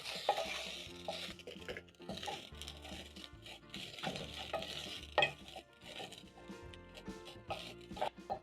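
Rice is stirred and toasted with spices in a pot, a soft sizzle under busy scraping and rattling of a spoon against the metal, with irregular knocks and clinks throughout.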